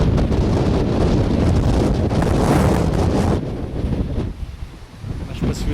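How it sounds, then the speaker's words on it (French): Heavy wind buffets the microphone on a hike in a loud, continuous roar that eases slightly near the end, drowning out everything else. "Je sais pas si vous allez m'entendre avec le vent."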